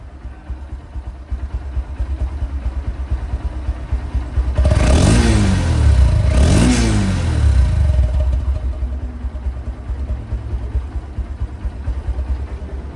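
A Honda X-Blade ABS motorcycle engine idles with a steady low rumble, then revs up twice in a loud surge before settling back to an even idle.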